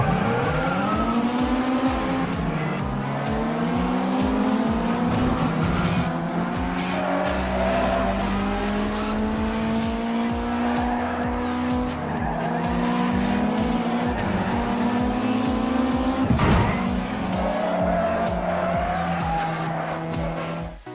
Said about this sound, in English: First I'll play GT Racing 2.